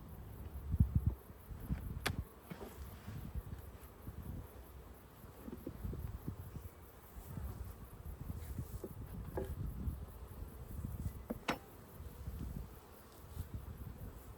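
Honey bees hum faintly and continuously around an open long Langstroth hive during an inspection, a soft, low buzzing drone with occasional closer passing buzzes and light handling noises.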